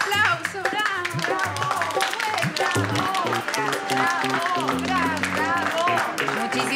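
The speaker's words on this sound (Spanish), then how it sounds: "¡Un aplauso!" Lively clapping from a group, with excited voices and music mixed in, continuing steadily throughout.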